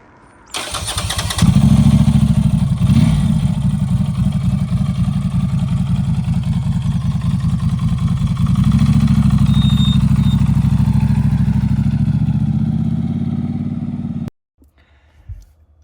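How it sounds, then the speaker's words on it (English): A Norton Commando 961 motorcycle engine cranks and fires after about a second, then idles with a loud, close, throbbing beat. It revs up to a heavier roar partway through and stays there until it cuts off abruptly near the end. "I'm riding a Norton Commando 961."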